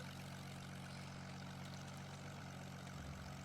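A propeller airplane flies in the Roblox video game, a continuous low engine drone with a steady propeller hum that stays faint and even, with no voices over it.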